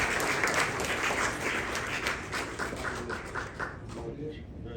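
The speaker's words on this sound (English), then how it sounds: "So a big round of applause for Kiran and the good on the stage." Audience applause for Kiran and the group on stage at a ceremony in Nepal, a steady dense wash of clapping that carries through with a voice speaking over it, thinning slightly toward the end.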